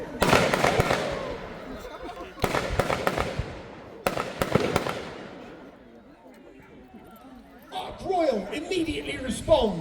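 Pyrotechnic warship gunfire in a staged naval battle on the lake at Peasholm Park: three loud bursts of bangs and crackles a couple of seconds apart, then a later burst with whistling, echoing outdoors under crowd noise and an announcer's voice.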